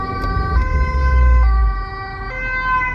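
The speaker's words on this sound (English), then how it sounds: "give the ambulance some room." An ambulance siren wails loudly and steadily as it passes on the road, with the tone stepping between high and low pitches over a rumble of traffic. There is no talk.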